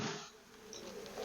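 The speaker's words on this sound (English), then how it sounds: "I've got a little bucket of bees." A steady, fairly quiet buzzing of honeybees held in a small bucket, like bees humming in a container, continuous throughout with no talking.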